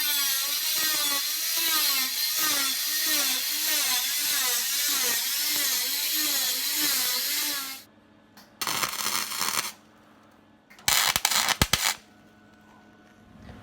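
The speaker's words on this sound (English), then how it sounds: "I'm going to run my grinder along where the joint is and cut the piece of metal that's underneath" An angle grinder cuts metal along a body joint on an XD Fairmont Ghia project car, a loud steady high whine with pulsing grinding for several seconds, followed by two shorter bursts after pauses.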